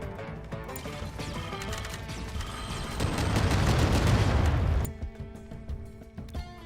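A barrage of gunfire and blasts in Stranded: Alien Dawn, starting as dense continuous firing that swells to a loud peak, then cuts off into quieter scattered pops.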